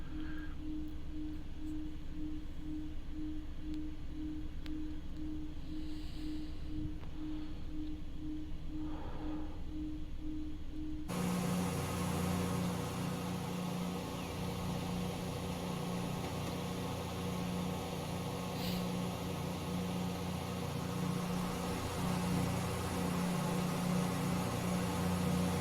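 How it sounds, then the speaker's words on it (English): Class 168 diesel multiple unit in Train Simulator Classic, climbing a hill at full throttle on the London Marylebone to Aylesbury line with cooling fans running; a steady, loud engine drone that deepens and thickens halfway through as the load rises. "Cooling fans having to kick in. The engine's working overtime, getting us up this hill."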